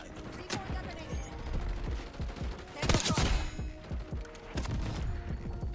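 Feng 82 gunfire in Black Ops 6 on the Chaos Nuketown map, rapid bursts of closely spaced automatic shots with a heavier burst midway, loud and continuous under occasional faint voice.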